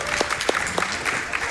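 A short burst of applause from a small group at Summer Games Done Quick 2024, a live speedrunning event, with scattered claps rather than a full crowd and faint background chatter.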